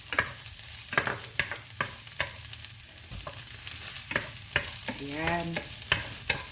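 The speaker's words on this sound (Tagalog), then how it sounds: "Painitin natin ang kawali natin, tsaka natin ilagay yung ating bawang." Garlic sizzles in a hot frying pan as a Filipino mushroom-and-vegetable dish begins, with a steady crackling hiss, stirring clatter and utensil taps throughout, a short spoken word breaking in near the start.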